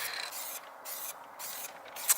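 Spray gun laying down a final coat of green paint on a pickup truck being given a NASCAR-style livery, a steady broadband hiss in several bursts with short pauses between passes.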